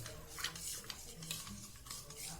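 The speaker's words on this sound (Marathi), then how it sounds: "थोड़ा आपलं साधं मीठ घालायचं आणि चमच्यानं चांगलं दळून काढायचं" A spoon stirs salt and sugar into buttermilk in a bowl, soft repeated scraping and light clinks at close range, quiet and without talk.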